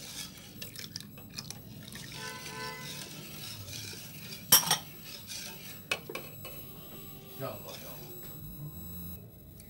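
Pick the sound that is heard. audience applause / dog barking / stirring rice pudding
stirring rice pudding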